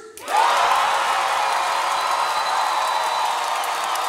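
A large dance-battle crowd erupts in loud, sustained cheering, whooping and applause for the locking dancer Yankee at a Summer Dance Forever 2023 semi-final, rising sharply and holding steady throughout.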